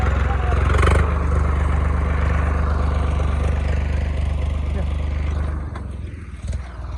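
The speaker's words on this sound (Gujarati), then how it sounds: "તો ટ્રેક્ટર લઈને હાલવા માંડ્યો" A farm tractor engine runs with a steady low rumble that holds for several seconds and then drops off, while a voice talks over it.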